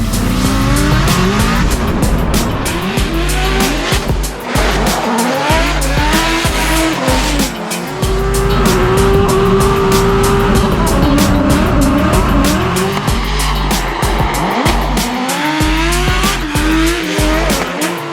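A Formula Drift car in St. Louis screams at high revs with continuous loud tire squeal and skidding, the engine rising and falling through gear changes, close and intense throughout.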